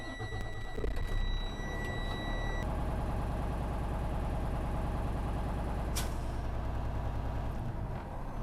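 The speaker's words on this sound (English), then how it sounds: "So I'm going to start my engine and fill up my tanks" Truck engine idling steadily to fill the air brake tanks, a low continuous rumble with a brief high tone early on and a short hiss near the end, with no voices.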